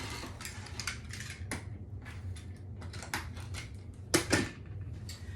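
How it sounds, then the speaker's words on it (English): Scissors or a blade slice through the jagged edge of a mesh roll, giving a series of soft crisp cuts and rustles, with one louder snip near the end, over a steady low hum. "I'm going to cut off this jagged edge"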